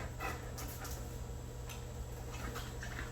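A dog pants close by in quick, steady breaths that run without a break through the whole short stretch, with no one talking.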